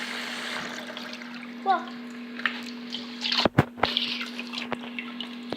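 Tap water runs through potato chips in a strainer, a steady trickle with scattered drips and splashes, a louder clatter of handling near the middle, and a brief spoken word.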